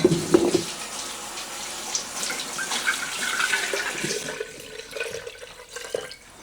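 A herbal preparation poured back into a glass jar in a splashing, gurgling stream that trickles and tapers off, with a few light clinks of glass.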